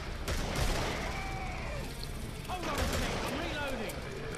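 Gunfire from the video game Killing Floor, with shots and clattering action sounds running continuously at moderate level beneath a person's voice.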